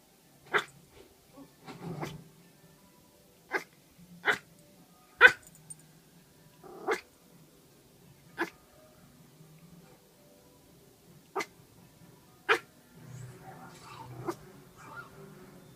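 A dog named Goose barks at her own reflection in a mirror, about a dozen sharp single barks spaced a second or two apart, close and alone in a quiet room, with a few soft yips between.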